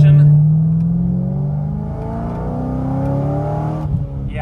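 Chevrolet C6 Corvette with an LS3 V8 and a big cam accelerating at partial throttle, a loud, close, lumpy engine note rising steadily in pitch, ending with a shift.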